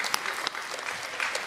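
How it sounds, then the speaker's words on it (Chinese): Audience applause in a Deyun Society crossdown (xiangsheng) comedy theater, a steady wash of clapping from a live crowd lasting the whole short stretch, with a few sharper claps standing out near the front. "鼓掌吧！"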